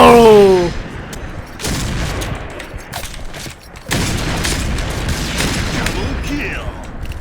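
Gunfire in the shooting video game Point Blank comes as loud, close bursts of shots over a busy game soundscape, with a voice talking over the action.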